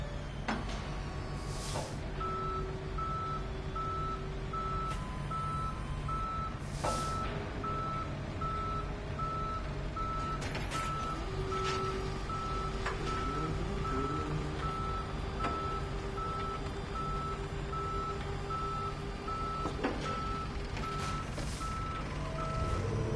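Repeated reversing beeps from a tow truck in the Police Simulator video game, a steady series of evenly spaced tones that runs the whole stretch over a constant engine rumble and background street noise.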